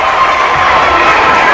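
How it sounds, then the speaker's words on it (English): A vocal high school boys' basketball crowd, Northern Adirondack Bobcats against Plattsburgh Hornets, fills the gym with a steady, loud roar of cheering and shouting voices throughout. "Vocal Bobcat crowd and a vocal Hornet crowd."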